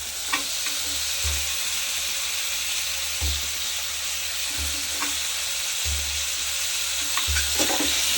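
Potato pieces dropped into tomatoes simmering in a pan for dal khichdi, with a steady loud sizzle throughout and repeated scraping stirs roughly every one to two seconds.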